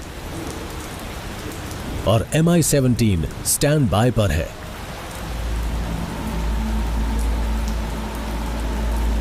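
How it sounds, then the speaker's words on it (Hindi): Steady rain hisses and patters throughout at Siachen, with someone talking over it at first before the rainfall continues alone with a low rumble underneath. "यहां कई दिनों से बारिश हो रही है"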